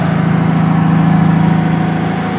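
A 1951 Chevy pickup, just out of yearly storage, idles while warming up with the choke partly on: a loud, steady, close-up low rumble with an even pulsing throb and no break.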